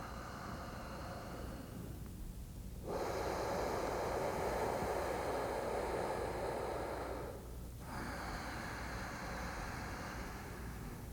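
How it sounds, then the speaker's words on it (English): A slow, deep Ujjayi yoga breath drawn audibly through the constricted throat, a soft, steady ocean-like rush rising and then released, heard close and alone. "we want to create a deep, full, resonant sound in the back of the throat"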